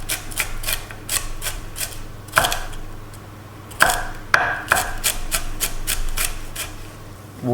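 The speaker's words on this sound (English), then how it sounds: "we'll chop up some of the leaves as well." A knife chops celery leaves on a cutting board, giving a steady run of close, crisp taps with a few heavier strikes over a low background hum.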